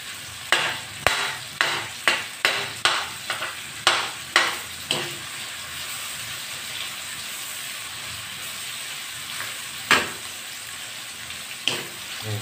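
Onion and red chili frying in a pan with chicken, with a series of sharp spatula stirs and scrapes in a steady rhythm over a constant sizzle, then a quieter sizzle broken by a couple of isolated scrapes.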